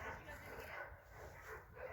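Dogs bark faintly in the distance, a few quick yips rising and falling, mixed with low murmuring voices, near a 1979 Ford F150 with its locking hubs being worked on.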